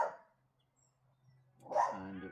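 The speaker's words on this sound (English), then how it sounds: "Next door's bloody dog." A neighbouring dog barks in a short burst at the start, then again after a pause, a few sharp barks at moderate distance in an otherwise quiet outdoor garden during autumn pruning of a dawn redwood.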